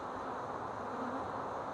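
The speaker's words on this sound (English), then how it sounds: "Lots of bees." A dense, steady buzz of many honey bees around an open nuc hive, continuous and close with no breaks or voices.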